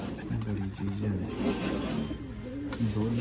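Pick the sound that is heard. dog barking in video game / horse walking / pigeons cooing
pigeons cooing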